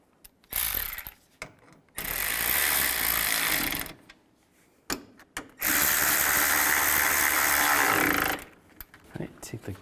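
A ratchet tightens bolts on the power steering oil cooler of a 2000-04 GMC Yukon, two sustained bursts of rapid clicking separated by pauses, with brief tool and handling knocks between them.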